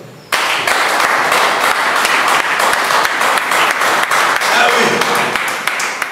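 A church congregation claps loudly in praise of the Lord, a dense, sustained burst of applause that starts suddenly after a brief quiet moment and carries on evenly throughout.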